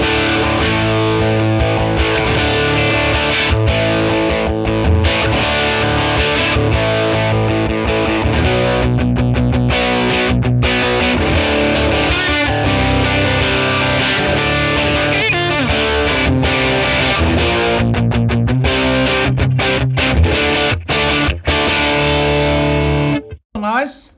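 Electric guitar played through a Fender 1957 Tweed Bassman ToneX amp model on a crunch setting, loud and continuous with sustained distorted chords, stopping abruptly near the end.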